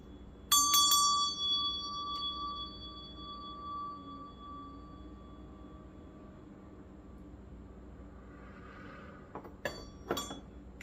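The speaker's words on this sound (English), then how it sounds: "we're gonna ring the meditation bell and just clear out the energy" A meditation bell struck once, a clear bright ring whose long metallic tone fades slowly over several seconds, followed by quiet room tone and a few faint knocks near the end.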